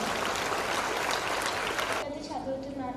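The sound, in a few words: audience applause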